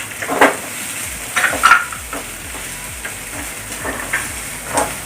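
Chopped onions and green chilies fry in hot oil over cumin seeds in a pan for a ladies' finger (okra) dish, giving a continuous sizzle with a few louder clinks and stirring scrapes from the utensil.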